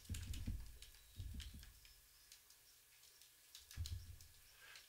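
Quick, quiet clicks of typing on a computer keyboard come in two short bursts with a pause between them, close and soft, over faint room hum.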